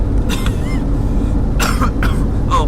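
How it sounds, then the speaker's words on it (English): Several harsh coughing bursts from a person with a persistent cough, close and loud, spread irregularly across a few seconds over a steady background rumble. "the cough is still persisting"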